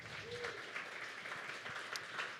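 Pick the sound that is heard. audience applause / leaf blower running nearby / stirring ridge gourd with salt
audience applause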